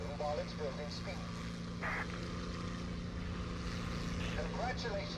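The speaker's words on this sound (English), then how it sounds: "Your plane will start gathering speed." A propeller warplane in War Thunder builds up speed on its takeoff run, a steady droning engine roar that stays loud and constant throughout, with faint voices drifting over it.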